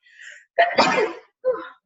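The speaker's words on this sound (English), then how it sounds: "Ooh, I have to sneeze" A single close, loud sneeze: a short breathy intake, then a sharp explosive burst trailing off, followed by a brief breathy sound afterward.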